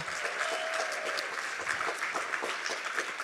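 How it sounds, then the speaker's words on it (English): An audience gives a round of applause for the organizers at a progressive community event, with dense, even clapping held at a steady level from start to finish. "Can we give a round of applause for all the organizers who made that happen?"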